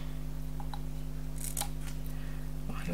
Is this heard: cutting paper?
yes